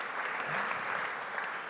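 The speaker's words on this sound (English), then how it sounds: "Big round of applause." A burst of steady applause from a group, dense clapping filling the whole moment at an even level.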